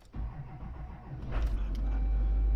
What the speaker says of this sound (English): Alright, so we got the truck started